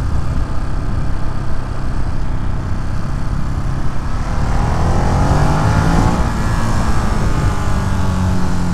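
A Ducati Monster motorcycle revving hard in second gear on a country road: a loud, continuous engine roar that rises in pitch toward the end, close to the microphone, with no talking.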